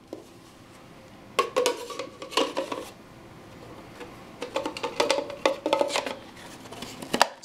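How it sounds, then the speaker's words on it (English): A KP Performance pigtail connector slides into a 900 MHz radio module and clicks into place. Sharp plastic clicks and handling clatter come in two close bursts over a quiet background, with no talking. "You'll notice that all you do is you slide it in, you'll hear a click, it's in."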